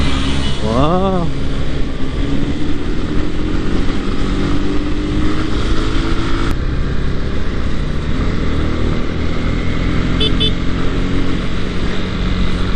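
A Honda CB300R motorcycle engine drones steadily while cruising in gear, a continuous loud hum with wind rush and a brief rising pitch sweep early on, heard from the rider's position.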